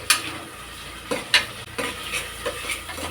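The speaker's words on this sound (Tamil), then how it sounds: "தக்காளி போட்டுக்கிட்டு நல்லா வணங்கணும்." Tomatoes for mutton kulambu sauté in a pan under a soft sizzle, with a spoon stirring and scraping in several short, irregular strokes at close range.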